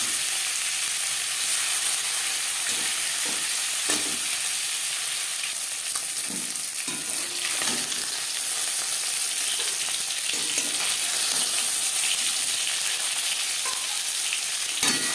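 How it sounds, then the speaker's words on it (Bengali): Fish pieces frying in hot oil in a pan, a dense, continuous sizzle and crackle that holds steady throughout, with a few faint knocks and shifts mixed in. "মাছ ভাজা হয়ে গেছে"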